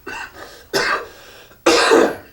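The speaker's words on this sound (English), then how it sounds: "That was a good break for me to cough." Three separate harsh coughs, close by, with brief pauses between them; the last one is the loudest.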